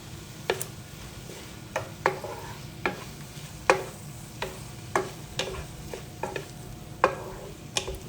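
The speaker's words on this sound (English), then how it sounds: "now we're gonna stir in some basil" Basil is stirred into keto caprese chicken with cherry tomatoes in a pan, a low simmering sizzle punctuated by regular, fairly sharp utensil clicks against the pan roughly every half second.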